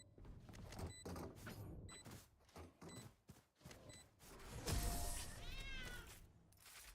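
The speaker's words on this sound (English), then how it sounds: "Yes, that is a cat." A cat meows in Valorant during a collegiate match between Buena Vista and Mayville State, heard as a brief rising, wavering cry partway through, under game sounds and background noise.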